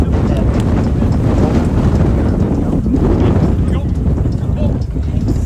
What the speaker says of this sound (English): that wind is kind of picking up